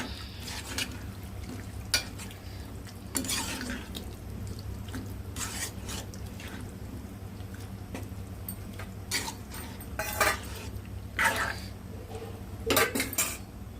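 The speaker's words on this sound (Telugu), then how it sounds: "ఒకసారి కలుపుకుందాం" Tamarind curry stirred in a pan, quiet scraping and clinks of a spoon against metal recurring irregularly over a low background hum.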